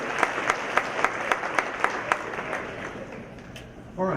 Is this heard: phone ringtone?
no